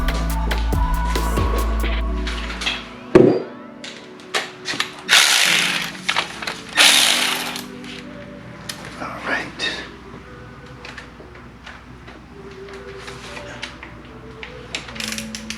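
Ratchet wrench working loose bolts under a 2015 Audi A3 during water pump and oil pan work, giving several bursts of clicking and metallic clatter, a loud low rumble early on, with a voice speaking at times.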